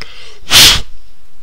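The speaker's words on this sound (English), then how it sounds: "I just blew in your ear there" A single sharp puff of breath blows straight into a microphone, a short, loud, close gust with quiet room tone before and after.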